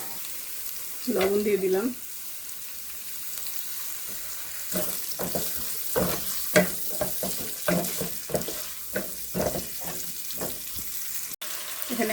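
Oil heats in a pan as spices go in for a spicy small fish chorchori, with a soft sizzle and clatters and scrapes of stirring. Someone speaks briefly near the start.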